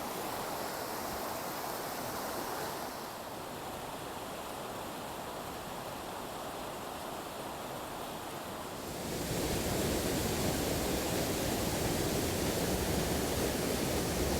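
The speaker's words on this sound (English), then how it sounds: "definitely a distinctive sound of water flowing downriver" A river rushes downstream beside a trail bridge on the Pacific Crest Trail, close to a double waterfall. The water makes a steady, broadband roar with no voices, and it grows noticeably louder and fuller partway through.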